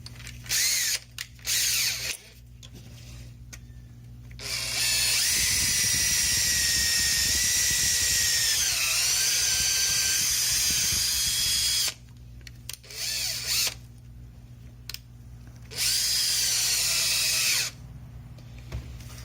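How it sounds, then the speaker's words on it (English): Power drill with a 3/8 bit boring out a broken in-tank fuel strainer fitting on a Ford Super Duty, loud whining bursts of several seconds with pauses between, no talking. "See, the drill bit is right there, about to come to the screen."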